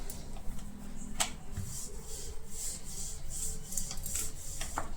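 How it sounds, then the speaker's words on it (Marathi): A rolling pin presses out thin sheets of fenugreek and chickpea-leaf dough for crispy khari, three stacked together, making soft repeated rubbing strokes with occasional light taps, close by and without speech. "हे बघा अशी छान लाटून घ्यायची, पातळ लाटायची."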